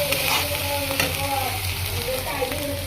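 Spice masala frying in a pan for chicken curry, made without garlic, a steady close sizzle with occasional stirring scrapes, under a softly humming background.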